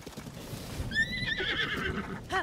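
A horse in the video game Zelda: Tears of the Kingdom gives a bright whinny that trails off into snorts, heard close and clear over faint forest ambience and soft hoof steps.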